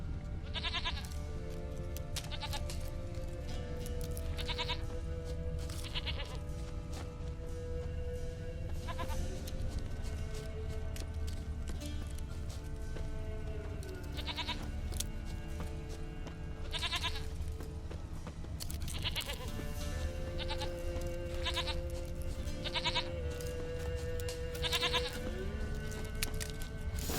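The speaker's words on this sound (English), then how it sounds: "Here, goat." Several stubborn, horned goat bleats, mid-distance and moderately loud, call out in repeated bursts across a video game scene over a steady low ambient bed with musical tones.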